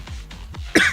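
A video game character coughs in a short rough burst at the end, preceded by low rhythmic thumping sounds, with the character showing hand tremors.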